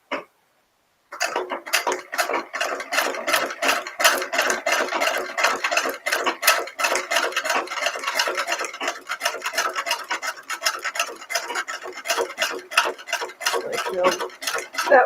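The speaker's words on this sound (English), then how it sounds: "I'm going to start sewing again" Hand-sewing a lace chemise produces a rapid, steady train of small ticking and rubbing pulls of needle and thread, close and crisp, continuing after a brief silent start.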